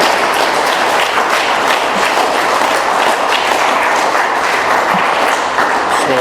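An audience at an AA meeting in Doylestown, Pennsylvania gives speaker Tony a loud, sustained round of applause, with dense clapping filling the room throughout.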